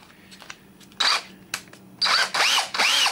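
A DeWalt XRP cordless drill, its gearbox newly replaced, whirs in short bursts: a few faint trigger blips, then several loud close spin-ups that wind up and down in pitch, with no talking.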